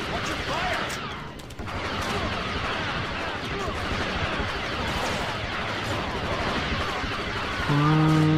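Rapid gunfire from a Star Wars Battlefront II battle, dense and continuous crackling shots layered with distant blasts, running steadily under a player's speech throughout.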